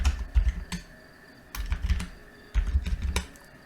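Quick bursts of keystrokes on a computer keyboard come in three short clusters separated by pauses, crisp and close with a faint hum underneath.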